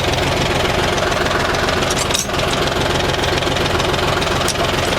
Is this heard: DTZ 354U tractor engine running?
yes